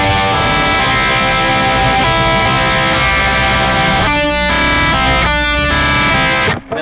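Distorted electric guitar plays a bridge section, a loud, sustained strummed chord pattern with brief stops near the end.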